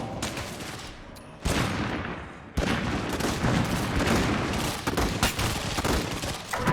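Dense rapid gunfire rattles on in a zombie shooter video game, loud and continuous bursts layered with game sound effects and no clear speech.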